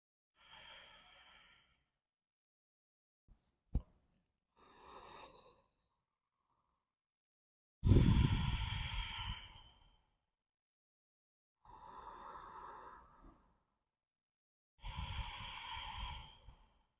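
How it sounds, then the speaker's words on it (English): Ujjayi ocean breath drawn through a closed mouth: soft, airy hisses in separate inhales and exhales, with one louder, fuller breath midway and quiet gaps between, close and alone. "So it sounds like an ocean. That's why it's called ocean breath."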